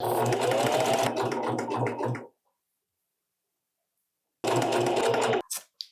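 A sewing machine stitches seams on Lane Pants in two loud, fast bursts, the first about two seconds long and the second after a silent pause, then a few brief stutters as it stops. No one speaks.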